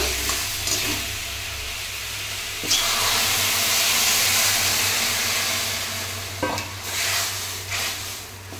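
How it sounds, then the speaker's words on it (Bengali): Water poured into a pan of sautéed spiced vegetables for a Bengali fish curry with drumsticks, giving a steady broad hiss and sizzle with stronger surges midway and near the end, no talk. "মশলা সবজি কষা হয়ে গেছে আমার, এবার আমি জল ঢেলে দেব"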